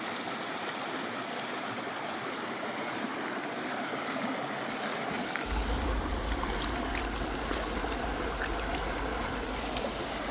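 Clean Ozark stream water flows steadily at Blanchard Spring, a continuous broadband rushing and trickling that stays close and even, with a deeper low rumble joining partway through.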